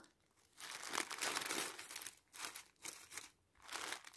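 Dried bay leaves crumpled by hand in a series of crisp, crackly bursts, close and fairly quiet, with short pauses between handfuls and no talking.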